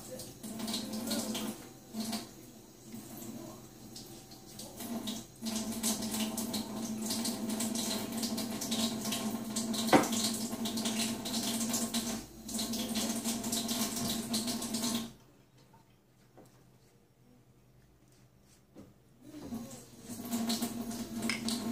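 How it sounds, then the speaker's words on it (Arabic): A tap runs steadily into a kitchen sink for about fifteen seconds, a continuous washing rush with a few small knocks. It stops to near silence, then starts again faintly at the end. "الماء"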